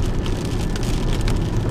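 Heavy rain pounds steadily during a Kansas storm, a dense, continuous hiss and patter close by with no voices.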